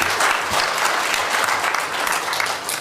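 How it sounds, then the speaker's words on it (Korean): A church congregation claps together to welcome a visiting guest during a service, steady dense applause filling the room throughout with no talk over it. "다 함께 박수로 환영하겠습니다"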